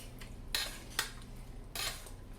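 An egg mixture is stirred with a metal utensil against a bowl, producing three sharp scraping clinks spaced about half a second apart over a quiet kitchen background, with no talking.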